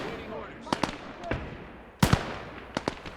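A 105 artillery gun fires in a WWII video game battle: several sharp, cracking booms in uneven succession, two clustered pairs standing out over a low rumbling background.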